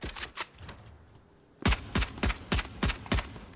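Ghost pistol fired in the shooter game Valorant: a few scattered shots, a brief lull, then six sharp, evenly spaced semi-automatic shots in quick succession, loud and close with no talking.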